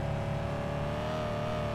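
A tuned car's engine revs in Car For Sale Simulator 2023, a loud, steady, high-pitched whine that holds one sustained note close up, with no talking.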